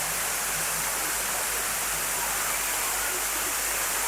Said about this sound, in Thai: เป็นน้ำตกที่ไม่ใหญ่มากนัก